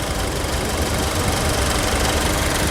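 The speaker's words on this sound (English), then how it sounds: "the engine's getting warmed up, so it's getting more quiet. Still sounds great too." A 2006 Nissan Frontier XE King Cab engine idling while warming up, a steady, close mechanical chug with a light ticking knock and no change in pace throughout.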